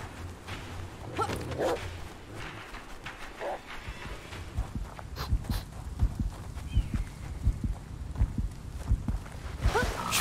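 An animal in the Die Young game grunts and scuffles near the listener, with rhythmic low thuds like hooves or trotting steps that grow steadier and louder toward the end.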